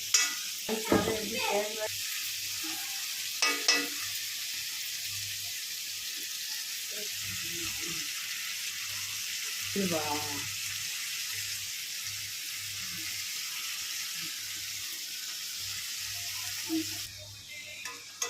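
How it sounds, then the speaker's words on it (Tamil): Prawn thokku masala fries in oil with a steady close hiss, broken by spoon scrapes and clatters against the pan as it is stirred, and a few bubbling bursts. "கொஞ்ச நேரம் அப்படியே கொஞ்சம் ஃப்ரை ஆகட்டும்."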